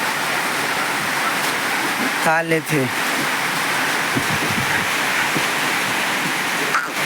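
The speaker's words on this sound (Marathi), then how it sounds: "आता पाऊस सुरू झाला" Steady, even hiss of rain starting to fall on a farm, with a voice speaking briefly partway through.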